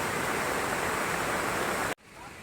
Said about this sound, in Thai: น้ำไหลมาอย่างแรงเลย